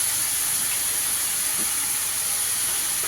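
A bhaji of bitter gourd, potato and onion fries on a stove with a steady, close hiss of hot oil that stays even and unbroken, with no voices.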